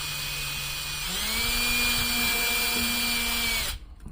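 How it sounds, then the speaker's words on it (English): An electric drill whines steadily for a few seconds while drilling a pilot hole, its pitch rising slightly as it bites in, then cuts off abruptly. "Now before I go ahead and start drilling with the big one"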